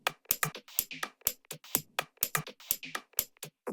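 Minimal deep tech percussion groove built from looped sample-pack loops, with crisp, dry hits repeating in a tight, steady pattern, close and punchy with short gaps of silence between strikes and no voices.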